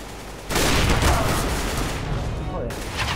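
A loud burst of gunfire erupts in Counter-Strike: Global Offensive, a rapid volley of shots that rings on for a few seconds with a voice talking beneath it.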